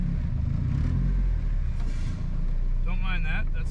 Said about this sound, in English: Don't mind that, that's the exhaust.